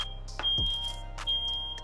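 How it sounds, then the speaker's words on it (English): Kitchen smoke alarm beeps in short chirps over a steady electronic hum while keto carnitas roast in an oven at 450 degrees; the tones are faint and spaced apart, with no talking. "there was no way that fire alarm wasn't going off"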